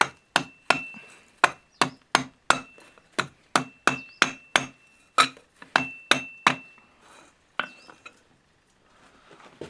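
Rapid, ringing metal hammer strikes on an anvil as the brim of a forged witch's hat is shaped over the anvil edge, about twenty crisp blows in an uneven rhythm before trailing off, close and clear.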